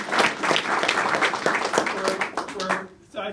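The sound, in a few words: audience applause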